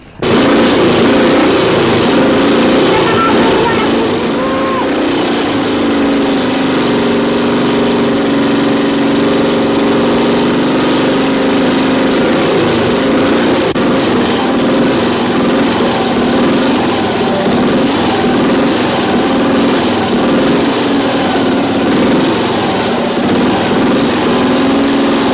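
A motorcycle engine runs loud and close, a steady unbroken drone with a throaty mid-range rumble and no voices.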